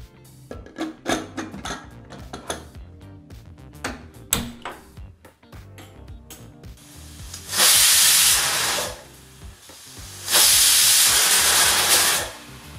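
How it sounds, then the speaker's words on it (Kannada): After assorted clinks and kitchen clatter, a pressure cooker cooking a vegetable dish lets out two loud, sustained hissing whistles of steam, each lasting a couple of seconds. "ಈಗ ಕುಕ್ಕರ್ 2 ವಿಸಲ್ ಬಂದಾಯಿತು"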